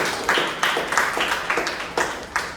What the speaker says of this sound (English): have a huge round of applause for them first.